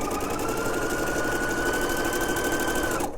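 A sewing machine stitches knit fabric in one steady, fast, close run of whirring needle strokes with no voices, and it stops abruptly at the end.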